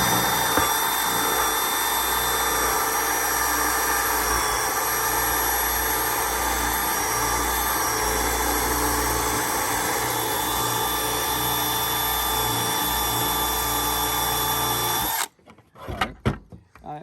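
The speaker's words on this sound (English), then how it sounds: "And we're gonna start drilling." A power drill bores a one-inch hole through a plastic bucket, running as a loud, steady whine for about fifteen seconds before stopping abruptly, followed by a few faint clicks and handling noises.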